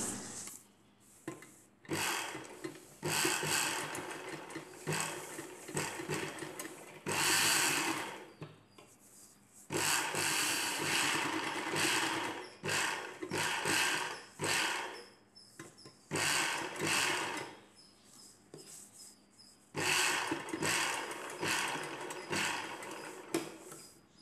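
A sewing machine stitches the collar of an Anarkali dress in repeated close, loud runs. Several seconds of rapid whirring needle action alternate with short pauses between passes.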